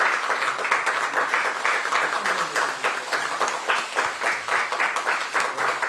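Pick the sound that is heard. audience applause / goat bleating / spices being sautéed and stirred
audience applause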